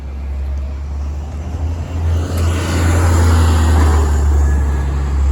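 A city bus passes on a Toronto street on an evening walk, a loud low engine rumble and road noise that swells and holds steady as it goes by close at hand.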